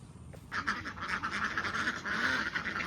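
Several domestic ducks quack repeatedly and close by as they crowd in for feed, a busy run of nasal calls in a quiet rural setting.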